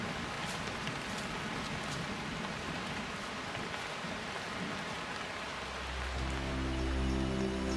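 Monsoon rain falls on the west coast of South India, a soft, continuous patter and hiss that stays fairly faint, with a low hum rising near the end.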